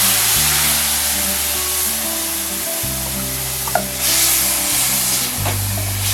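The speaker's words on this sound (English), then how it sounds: "Deglaze the pan," Broth poured into a hot pan that has been browning ground beef, setting off a loud, steady sizzle and hiss that fills the whole stretch close up, with a brief scrape of stirring partway through.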